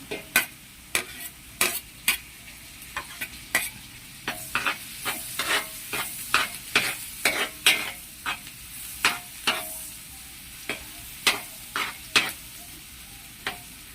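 Garlic sautéing in a pan, a constant sizzle broken by a long run of sharp, close spatula strikes and scrapes against the pan at an irregular, brisk pace, with no talking.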